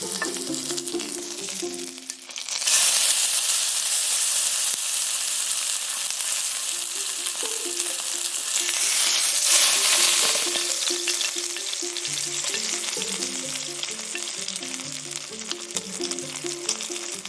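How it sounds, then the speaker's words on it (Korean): Pork belly grills and sizzles in a pan, browning on each side, giving a loud, steady crackling hiss with some small shifts in intensity and no voices. "각 면이 카라멜색이 될 때까지 구워줍니다."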